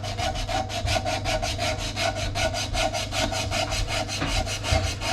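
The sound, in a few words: sanding a beech yarn bowl on the lathe with 60 grit sandpaper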